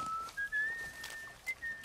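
Brief sliding whistle from a character in The Last of Us Part I, a few thin wavering notes over a quiet background hiss, close and soft.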